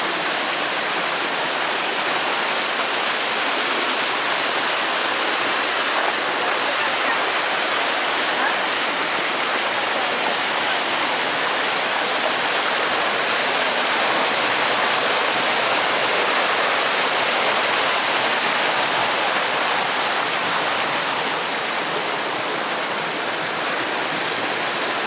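Water rushes down a smooth rock flume in the White Mountains, a loud, continuous broadband roar that stays steady throughout.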